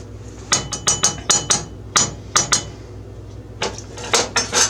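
Metal cooking pots clank and knock in a kitchen, a quick run of about a dozen sharp, close hits in uneven bursts with a short pause midway.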